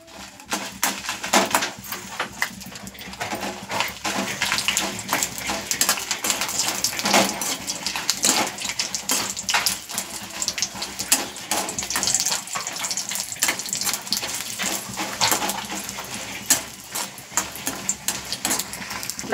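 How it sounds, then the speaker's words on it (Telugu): Dried red chillies fry in hot oil for a Bagara Baingan (stuffed brinjal curry), giving a steady, close, bubbling sizzle with scattered crackles that runs on without a break and with no talk. "ఫస్ట్ ఎండుమిర్చి వేసి మనం బాగా ఫ్రై చేసుకోవాలి"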